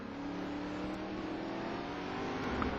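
A race car accelerates off the start at Magny-Cours during round 2 of the 2008 ETC Black Cup, launching from grid position 2. Its engine drones loudly and steadily, swelling slightly toward the end, with no talk.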